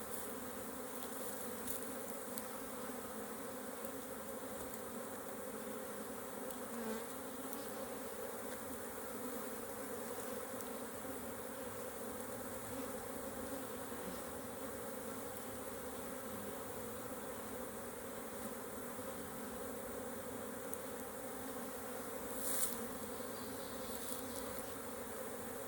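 Honeybees hum steadily around an open hive during an inspection, a faint continuous buzzing drone with occasional louder passes of individual bees close by.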